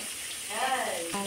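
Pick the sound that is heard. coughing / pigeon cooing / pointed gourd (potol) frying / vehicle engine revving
pointed gourd (potol) frying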